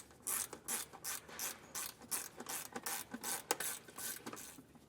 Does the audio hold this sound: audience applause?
no